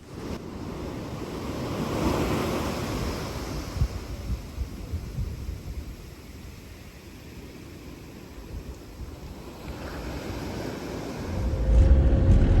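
Ocean waves wash onto a beach in Wales, a low continuous surf rumble with wind buffeting the microphone and a louder gust near the end.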